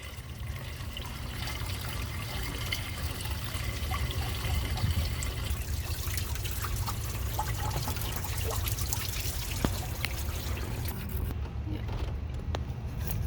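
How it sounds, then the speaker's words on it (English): Water trickles and pours steadily while a car's coolant reservoir is flushed out, a continuous close liquid wash with small splashes and a low rumble running through the whole stretch. "Don't forget to flush out the coolant reservoir."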